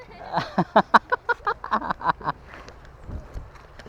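About a dozen evenly spaced hoof clops ring out close by in a quick steady rhythm, then fade into quieter rustling.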